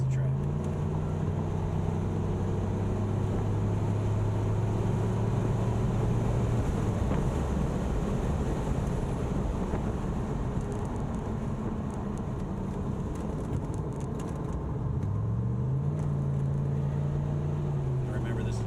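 Pontiac Grand Prix GXP lapping the Gingerman race track: a steady engine drone heard from inside the car, with a held pitch that falls around mid-lap and then climbs again under wind and road noise.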